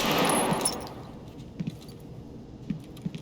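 Gunfire in Escape from Tarkov during barrier testing, a loud burst of shots at the start fading into a ringing tail, followed by a few scattered quieter impacts or distant shots.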